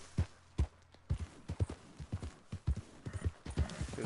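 Horse hooves in Red Dead Redemption 2 clop in a steady rhythmic gait while riding, close and distinct, with regular paired hoofbeats throughout.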